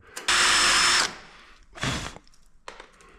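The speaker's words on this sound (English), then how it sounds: "Maybe I'm drilling the wrong place." A power drill bites into a part on a BMW E36 325i in loud bursts: one long whir of nearly a second, then a shorter grinding pass and a brief final spurt, close and harsh with quiet gaps between.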